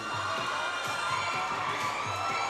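Crowd cheering at the PBA Rookie Draft 2019 inside the Robinson's Place mall in Manila, a dense, loud, sustained roar of shouts and whoops with no break.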